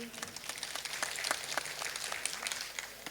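Scattered applause from a mushaira poetry gathering audience, many quick overlapping claps at moderate distance, fairly soft and continuous for a few seconds.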